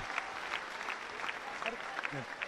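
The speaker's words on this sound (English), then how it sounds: "He's had a terrific season, and he's applauded by the Trinity camp." Trinity College supporters at a schools rugby match clap for an injured player leaving the field, with steady moderate applause under a commentator's voice.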